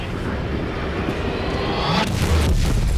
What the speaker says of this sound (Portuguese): Os B-17 são sacudidos enquanto a flak explode ao redor deles.